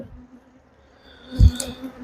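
Honey bees from a colony open for hive inspection buzz in a low steady drone, with a brief louder swell from a bee passing close by.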